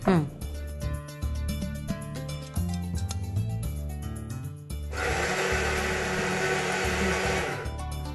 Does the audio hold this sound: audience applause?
no